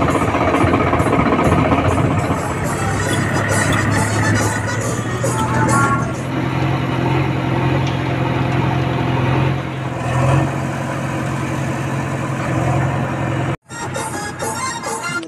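A tractor and a JCB excavator run nearby with a loud, steady diesel engine drone and rumble that shifts in tone partway through, then briefly cuts out before resuming.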